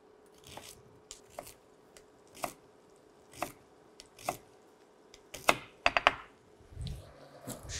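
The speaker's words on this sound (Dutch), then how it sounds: "En dan kan ik weer verder snijden." A knife cuts vegetables into small slices on a board, with spaced crisp chops at first, then a quicker cluster of cuts, close and clear with no talking.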